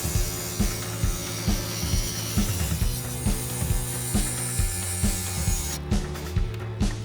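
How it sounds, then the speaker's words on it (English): Glass grinder smoothing the edge of a Kokomo opalescent glass piece for a suncatcher, with a steady run of regular rhythmic scraping pulses, close and moderately loud, no talk. "While grinding the glass, Mark keeps a steady and even pressure as he turns the piece with precision."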